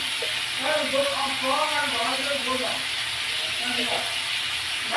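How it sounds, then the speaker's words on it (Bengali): Meat fries in a pan with a steady sizzling hiss, while voices talk nearby over the sizzle. "মাংসটাকে ভাজা বসিয়েছি।"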